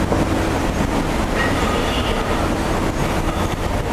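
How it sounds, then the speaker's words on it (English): A subway train at Gangnam Station in Seoul, the city's busiest, rumbles along with a steady roar and faint wheel squeal, heard loudly from the station without voices. "Busiest subway station in Seoul."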